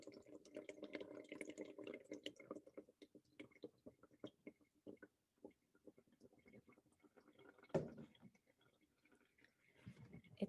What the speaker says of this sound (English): It's still dripping through.